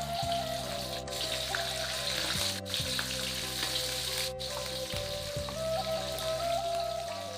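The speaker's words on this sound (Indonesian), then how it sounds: "Daging ko kita goreng sebentar saja ya sana, tak lama-lama doh." Beef frying in hot oil for Minangkabau dendeng balado, a dense continuous sizzle with crackling spatter and a steady low hum, broken by a few sharp brief dropouts, with no talking.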